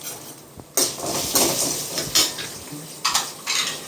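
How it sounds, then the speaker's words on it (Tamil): Black peppercorns, a small piece of ginger and ten garlic cloves sauté in oil in a pan for an oil brinjal kuzhambu. A spoon repeatedly scrapes and clinks against the pan over a steady sizzle, with no voices. "அப்புறம் வந்து ஒரு 10 பல் பூண்டு போட்டு வதக்குவோம்"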